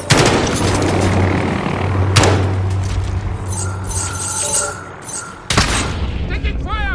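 Video game gunfire crackles in loud bursts during a team objective match, with sharp booming shots and clinking debris, mixed with game voice lines.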